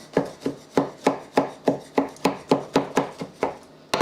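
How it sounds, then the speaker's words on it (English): Boiled citrus peels being chopped with a knife on a board for mince pie filling, about fourteen sharp, evenly spaced chops, close and loud with nothing else heard. "It's telling us to chop up the boiled peels, which I am."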